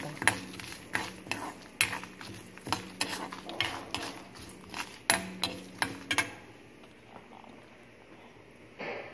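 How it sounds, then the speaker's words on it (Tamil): Dried red chillies frying and being stirred in a pan, a steady run of scraping spatula strokes and clinks against the metal over a low sizzle, clattering for about six seconds before easing to a quiet hiss. "நல்லா இப்படி சிவப்பாக வறுத்து வைத்த பிறகு இந்த வர மிளகாய் போட்டு அதோட அதையும்"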